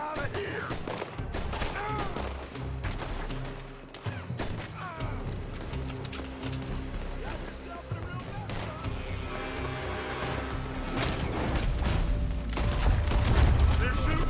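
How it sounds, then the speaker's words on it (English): Gunfire rings out from a building during a Red Dead Redemption 2 shootout, dense, overlapping shots and impacts over a busy game mix, with voices shouting now and then underneath. "They're shooting from that building!"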